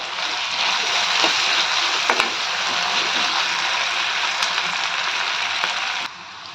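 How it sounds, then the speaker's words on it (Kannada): Potatoes frying in a pan give a loud, steady, close sizzle that runs unbroken for several seconds with a few faint clinks, then drops slightly at the very end. "ಇವಾಗ ಆಲೂಗಡ್ಡೆ ಎಲ್ಲ ಚೆನ್ನಾಗಿ ಫ್ರೈ ಆಗಿದೆ ನೋಡಿ."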